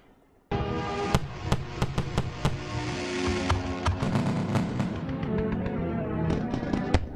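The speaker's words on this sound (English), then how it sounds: "And the explosions sound even more wicked." A burst of booming explosions and sharp cracks, many rapid blasts rolling over one another with a low rumble, loud and continuous after a quiet start.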